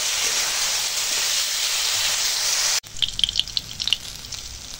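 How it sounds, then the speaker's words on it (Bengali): Snake gourd frying in oil sizzles with a steady, fairly loud hiss for almost three seconds, then cuts to quieter, scattered crackles and pops. "তো দেখো চিচিংটা এখন ভাজা হয়ে গেছে"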